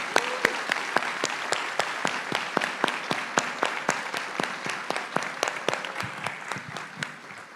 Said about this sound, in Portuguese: a segunda salva de palmas vai para esses maravilhosos autores que estão aqui